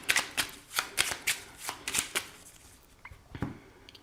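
A deck of oracle cards is shuffled by hand in a series of crisp riffling bursts, about eight quick flutters at an uneven rhythm, close and moderately loud, tapering into softer card handling without any talking.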